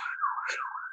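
A brief wailing siren tone sweeps up and down, heard faintly for under a second.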